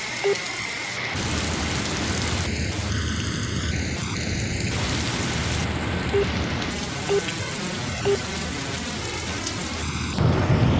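Heavy rain pours steadily with rumbling thunder during a scene in a Bollywood romantic film, a dense, constant hiss filling the whole stretch, with a few brief tonal blips and a sharper surge of noise near the end.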